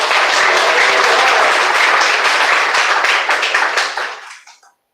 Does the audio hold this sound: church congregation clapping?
yes